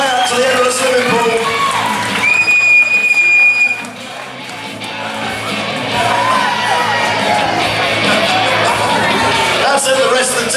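A crowd at an indoor swimming pool cheers and whoops for a team dragging a kayak to the end of the pool, with someone talking loudly over the steady echoing noise.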